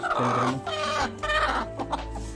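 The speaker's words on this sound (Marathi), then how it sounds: "तिच्या खाली बघा कोंबडी कशी मारत आहे" A brooding hen clucks close by in a run of short, throaty calls, with no other sounds around it.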